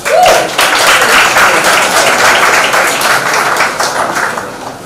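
At a university academic conference, an audience claps loudly for award winners, a steady, dense burst of applause that holds for several seconds before easing slightly at the close.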